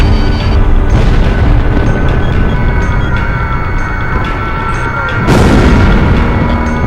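Bombs from an aerial bombing run burst continuously in the Ace Combat Zero combat flight game, a loud, dense rumble of overlapping explosions with a sharper blast near the end.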